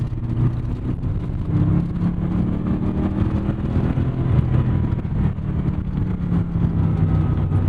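A 1991 Chevrolet Corvette C4 ZR-1 engine drones loud and steady under throttle, a continuous rumble that swells slightly midway with no voices over it.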